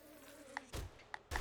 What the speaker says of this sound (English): You and these damn bees are down.